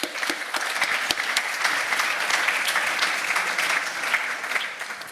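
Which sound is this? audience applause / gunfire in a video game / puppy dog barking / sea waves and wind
audience applause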